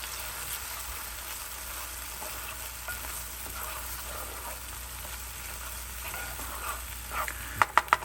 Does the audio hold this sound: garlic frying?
yes